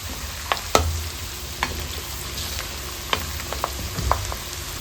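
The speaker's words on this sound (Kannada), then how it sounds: "ಬೆಳ್ಳುಳ್ಳಿ ಕೂಡ ಚೆನ್ನಾಗಿ ಫ್ರೈ ಆಗಬೇಕು ಎಣ್ಣೆಯಲ್ಲಿ." Halved garlic cloves frying in oil in a pan for Coorg-style chicken pickle, a steady close sizzle with a few sharp spatula scrapes and clinks, no voices.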